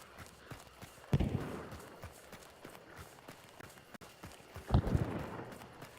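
Hoofbeats of a horse in a multiplayer survival video game, faint irregular clip-clops with two louder clusters of hoof impacts, heard alone at low level.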